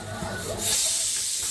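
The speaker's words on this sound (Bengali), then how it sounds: "পেপিটা সিদ্ধ দিচ্ছি প্রেশার কুকারে চুলায়" A steady, loud hiss of escaping steam rises abruptly and continues from a pressure cooker boiling papaya on a stove nearby.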